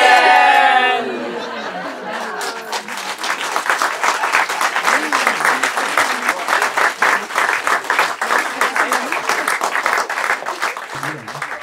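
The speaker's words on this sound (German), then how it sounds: "Am Ende gab es eine Menge Beifall und viel Redebedarf." Audience applause at a children's concert, a sustained clatter of many hands clapping after a brief sung or spoken moment at the start, with some chatter and laughter mixed in.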